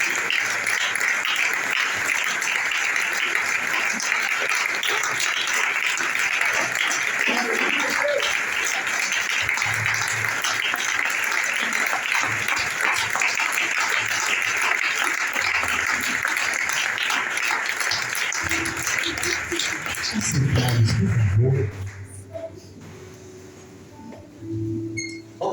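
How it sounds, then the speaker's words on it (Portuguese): A church congregation claps in sustained, dense applause for about twenty seconds, then it fades away and a low voice and instruments take over near the end. "por um minuto você pode aplaudir a palavra"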